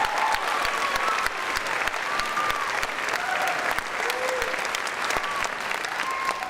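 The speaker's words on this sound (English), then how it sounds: "how about another round of applause for our choirs tonight?" A concert audience applauds for choirs at a school veterans concert, a dense, steady wash of clapping from a large crowd with a few faint whistles, sustained throughout.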